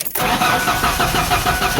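A 1996 Ford Ranger pickup engine cranks briefly and catches after a solenoid replacement, settling straight into a loud, steady idle up close.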